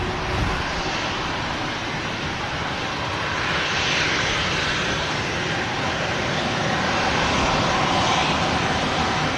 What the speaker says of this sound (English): Reverses and spoilers start on this Ryanair, which is vacating at the moment, the runway.